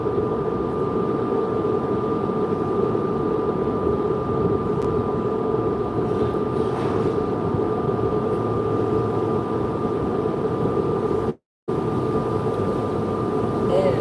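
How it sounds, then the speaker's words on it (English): The cruise ship Freedom of the Seas sails away from Nassau on its engines, a steady, loud low drone with a faint, constant higher hum over it. "There goes the engines."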